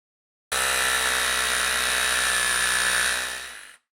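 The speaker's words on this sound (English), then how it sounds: "We're going to drill on the insides of that" A power drill bores through a camper roof to fit a Nomadic Cooling X3 12-volt air conditioner, giving one loud, steady, high-pitched whine for about three seconds before winding down and stopping.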